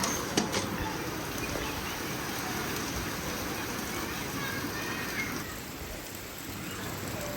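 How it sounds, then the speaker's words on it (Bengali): Heavy rain pours down outside in a dense, unbroken hiss that stays strong throughout, with a faint bird call or voice now and then beneath it. "আর এই যে বাইরে প্রচুর বৃষ্টি"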